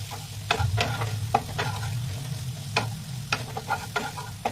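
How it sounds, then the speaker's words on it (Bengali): Onion shallow-fries in butter in a pan, a close, low sizzle under intermittent scraping strokes of a stirring utensil, with no talk. "বাটারের মধ্যে আমি পেঁয়াজটা দিয়ে দিচ্ছি। পেঁয়াজটা দিয়ে আমি একটু শ্যালো ফ্রাই করে নেব।"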